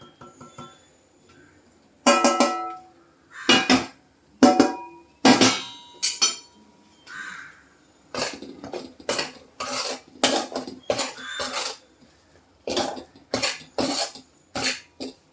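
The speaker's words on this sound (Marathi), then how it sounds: "आता ही मेथी पावडर आपण ह्याच्यात जसं ज्याप्रमाणे आपण बेसन भाजतो ना, बेसनचे लाडू करतो त्या प्रमाणातच आपल्याला मेथी पावडर भाजून घ्यायची आहे." Metal spoon scraping and clinking against a pan as fenugreek powder is roasted in ghee for laddoos, a run of sharp, close scrapes in uneven bursts with short pauses, no talking.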